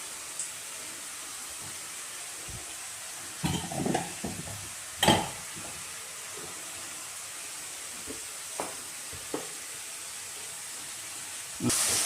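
Tomatoes sizzle in a cooking pan in a home kitchen, a soft steady hiss with a few scattered clinks and stirring knocks, fairly quiet and close.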